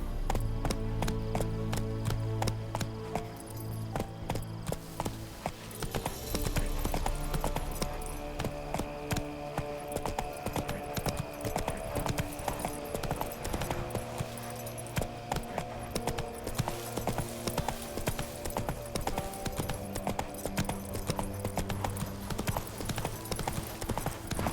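Roach, the horse in The Witcher 3, galloping with a steady, rapid clip-clop of hooves that runs throughout under layered game music and ambience.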